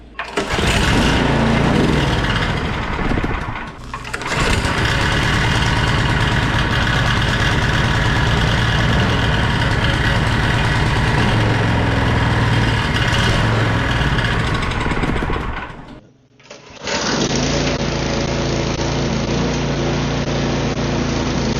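After a carburetor cleaning, a snow blower engine runs loud and close, a continuous buzzing drone that cuts out briefly twice and then settles into a smoother, steadier idle.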